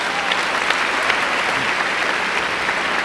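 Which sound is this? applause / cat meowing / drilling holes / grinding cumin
applause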